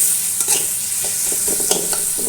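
Chopped tomatoes hit a hot pan of desi chicken curry, a steady close sizzle with scraping stirs and a few soft clatters running throughout.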